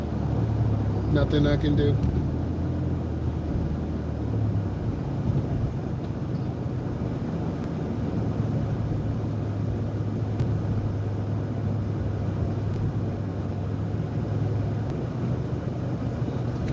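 Steady low rumble of road traffic heard from inside a moving car stuck in heavy traffic, a continuous drone throughout with someone talking over it.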